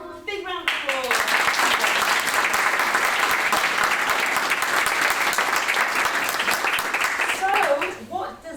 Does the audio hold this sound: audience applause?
yes